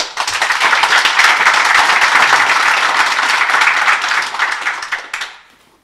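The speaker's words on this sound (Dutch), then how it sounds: "Eerst een applaus." Sustained, loud audience applause and clapping at a network operators' conference after a talk on DDoS detection and mitigation, dense and steady for about five seconds before tapering off.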